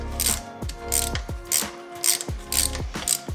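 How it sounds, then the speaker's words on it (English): A 10mm hex ratchet tightens the oil drain plug on a Ducati Monster S2R, producing repeated close clicking bursts of the pawl in an even rhythm, about six strokes with short pauses between. "I'm gonna go ahead and grab the 10 mil hex or Allen. And we're gonna go tighten"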